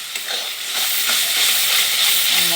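Masala stir-fried in a pan in a village kitchen, a loud, dense sizzling hiss building and holding steady with scraping stirring strokes underneath.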